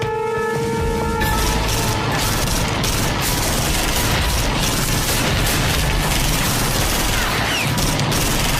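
Gunfire erupts in an action film shootout, a loud, dense, unbroken barrage of shots and booms filling the whole stretch.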